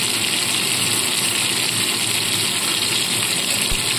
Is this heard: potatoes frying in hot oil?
yes